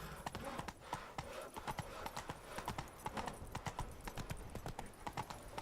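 Roach the horse trots along in Witcher 3, steady clip-clop hoofbeats in a quick regular rhythm, close and moderately loud, with a faint snort.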